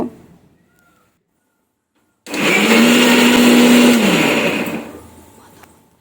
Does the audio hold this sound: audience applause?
no